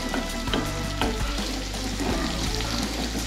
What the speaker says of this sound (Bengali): এর মধ্যে দেব জিরে এবং পেঁয়াজ দিয়ে আমরা ভালো করে পেঁয়াজগুলিকে ফ্রাই করে নেব।